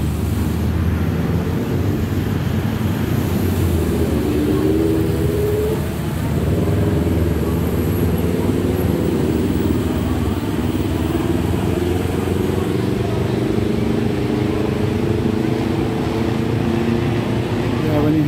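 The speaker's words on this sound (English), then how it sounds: "when you hear those engines, revving like that" Vehicle engines revving on a Bangkok street: a loud, continuous low roar of motors with rising and falling engine tones, heard up close over steady wind and street noise.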